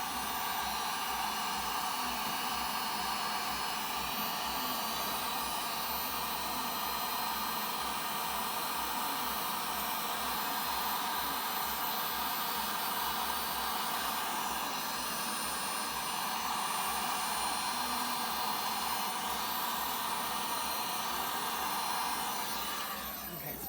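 A heat tool blows a steady, loud rush of hot air over a resin geode coaster with glitter set in the center, holding an even broadband roar with no break for the whole stretch.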